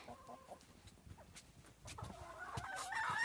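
Chickens clucking at a village coop during morning feeding and watering, a flock of faint, scattered clucks and calls building louder toward the end, with no talking.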